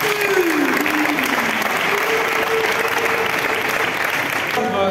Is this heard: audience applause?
yes